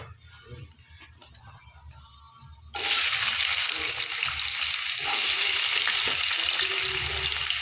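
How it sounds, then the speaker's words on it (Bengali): A quiet stretch of faint kitchen noise gives way to a sudden loud burst of sizzling as cut potatoes drop into hot oil in a wok, then a dense, continuous hiss of frying carries on close by. "এবার আমি দিয়ে দেবো কেটে রাখা আলু"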